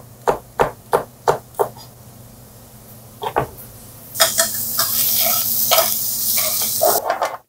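Plantain dropped into hot olive oil in a pan: several sharp taps and clunks first, then a loud, steady hiss of frying that holds for a few seconds before a final clatter.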